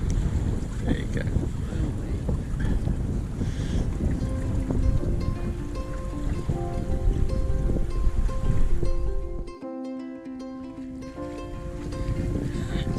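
A sailboat wallows along under only jib and mizzen as the wind eases near Shuna, with steady wind buffeting and water rush close to the microphone, then a brief lull and tonal creaking.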